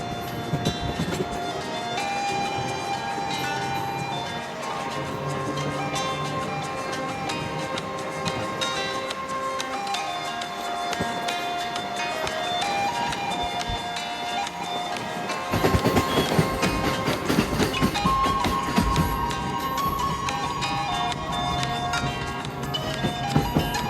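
Tebhaga Express train crossing the Farakka rail bridge, a loud continuous rolling rumble with clattering wheels that grows harsher and busier partway through.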